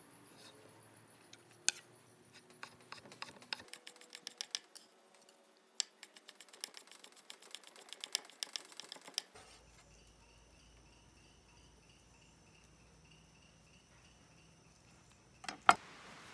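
Knife dicing a cleaned, seeded vegetable on a cutting board, with sharp, quick chopping taps in irregular bursts, close and fairly quiet, then a pause and a couple of final knocks near the end.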